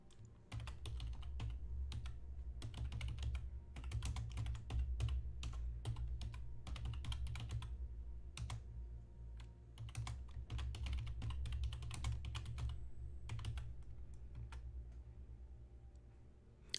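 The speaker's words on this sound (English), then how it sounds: "Here, I'll type in." Steady typing on a computer keyboard, with quick, close, fairly soft key clicks in an uneven rhythm that runs almost without a break, with no one talking.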